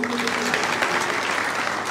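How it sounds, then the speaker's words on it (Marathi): Crowd at a political rally in Kagal claps in sustained, dense applause for about two seconds, with some voices mixed in. "पटलं तर टाळ्या वाजवा"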